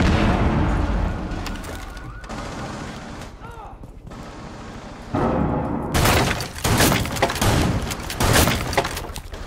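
A Rainbow Six Siege breaching charge goes off, with a loud burst of blast and gunfire erupting after a quieter lead-in of scattered shots and radio chatter. Heavy repeated impacts continue to the end.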